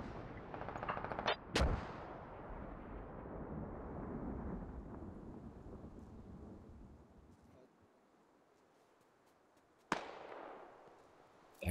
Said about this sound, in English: those mortars sound northeast